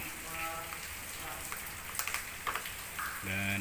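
Steady rain falling at an outdoor polling station in Padalarang, West Java, during a governor election vote count, a continuous wash of drops with faint tonal background sounds and a few brief knocks.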